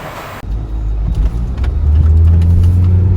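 A Honda Stepwagon with a new rear muffler sets off on a test drive, its engine swelling into a loud, close, steady low rumble after a brief burst of wind noise.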